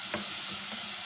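Sardines and tomatoes cook in a pan with a steady, faint sizzle, broken by a couple of brief stirring scrapes.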